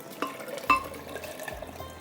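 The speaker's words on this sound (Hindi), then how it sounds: "और इसके अंदर जाएगा पानी" Water pours into a jug of red sharbat syrup, a short liquid splash and trickle with a couple of clinks against the vessel, close and moderately quiet.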